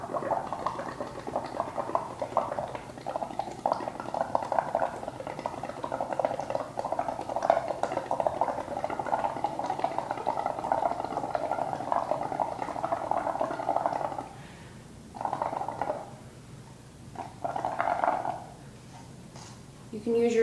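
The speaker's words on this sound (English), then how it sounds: "Then you just start blowing bubbles until it overflows out of your cup." Continuous bubbly gurgling from air blown through a straw into paint in a cup, steady for a long stretch, then pausing and resuming in short bursts.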